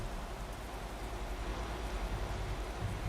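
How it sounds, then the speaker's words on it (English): Steady, even rain hisses from inside a truck cab in Euro Truck Simulator 2, a dense muffled wash with a low rumble underneath. No one speaks. "they have improved the rain sound inside, and I really like it"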